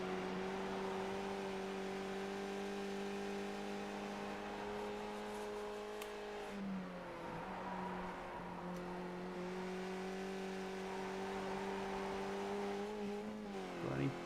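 Onboard race car engine during a racing league event, a steady droning note held for long stretches with a brief dip around gear changes midway, fairly faint and without talk.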